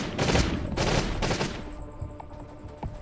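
Gunfire in the video game Last Day on Earth comes in a few loud, close bursts early on, then fades into quieter scattered pops and ambient game noise.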